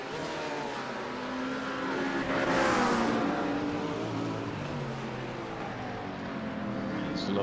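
Race car engines in a GT sprint sim racing game, a continuous close drone that swells and eases as cars accelerate and pass, with a commentator talking over it.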